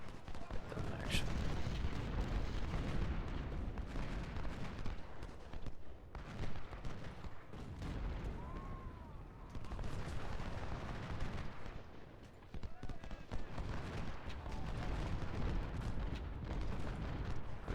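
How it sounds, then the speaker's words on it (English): Artillery fire from Civil War cannons in a strategy video game booms on and off beneath a continuous wash of battle noise, heard alongside speech. "I don't know where 2nd Division's artillery is. Get them in action."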